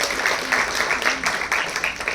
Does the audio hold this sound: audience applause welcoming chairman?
yes